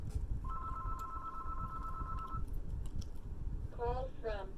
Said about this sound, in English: why does the phone ring?